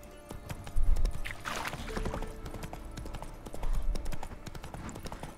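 Clip-clop of Roach, a horse in The Witcher 3 video game, trotting in a steady rhythmic hoofbeat, close and clear, with a brief whinny-like sound and game ambience underneath.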